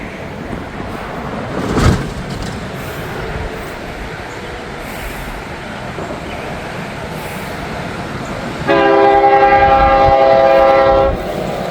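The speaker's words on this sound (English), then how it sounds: "this train is coming, and he is ripping. It sounds like he's working hard." A train rumbles past loudly and steadily, heavy engine noise throughout, then a long blaring horn blast near the end.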